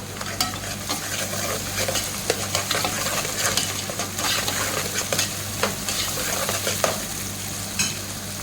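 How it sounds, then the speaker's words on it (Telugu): Onion with ginger-garlic paste fries in oil in a pan, giving a continuous close sizzle with frequent sharp scrapes and taps from a stirring spoon against the metal. "ఇప్పుడు రెండు నిమ్మకాయలు అల్లం వెల్లుల్లి పేస్ట్ వేస్తున్నాను దీన్ని బాగా ఫ్రై చేసుకోవాలి"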